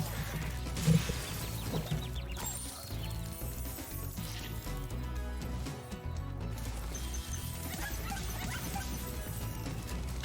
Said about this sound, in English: It's very satisfying to hit that row of dogs.